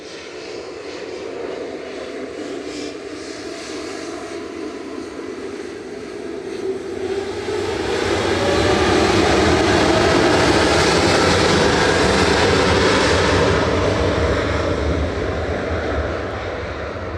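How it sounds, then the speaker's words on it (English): A Qatar Airways Boeing 787-9 Dreamliner departing Manchester Airport with a steady jet roar that swells from about eight seconds, peaking loud for several seconds before easing slightly as it continues. "Qatar with a beautiful 787-9 Dreamliner A7BHK with flight 22 back to Doha."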